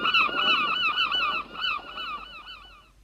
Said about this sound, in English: follow the sound of a million seagulls to get me to the beach